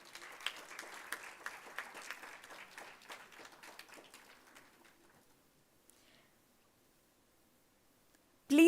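Applause from a conference audience at a media conclave on a Bengaluru university campus, thin scattered clapping for about five seconds that fades out, followed by near silence and a sudden loud burst at the very end.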